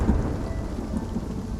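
A thunderstorm in the video game Spiritfarer: heavy rain pours steadily with a low thunder rumble throughout, loud and continuous with no voices.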